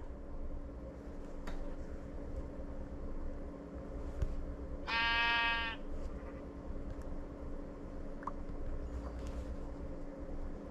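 A single clear sheep bleat in a Minecraft-style game, about a second long, rising midway over a steady low background drone.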